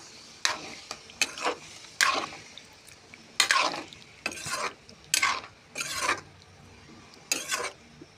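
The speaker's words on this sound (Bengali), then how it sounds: "এখন জল দিয়ে দেব দিয়ে নাড়াচাড়া করবো" A spoon scrapes through spicy chicken curry in a pan after water goes in, cooked wedding-style. It makes about nine distinct, fairly loud stirring strokes, each a rasping swish separated by brief pauses.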